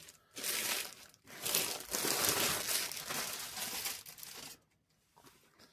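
A sturdy plastic dust cover is peeled off a cross-stitch kit, giving close, crinkly crackling in two bursts with a brief pause between, then trailing off into quiet.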